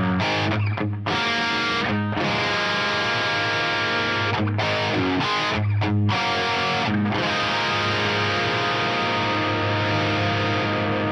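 A heavily distorted electric guitar plays sustained chords, its tone thickened by an Eventide MicroPitch pitch-shifting pedal, with brief stops between strums.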